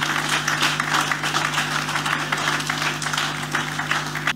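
Steady applause from a crowd at a political manifesto presentation in Mauritius, dense and continuous clapping with a low hum underneath throughout.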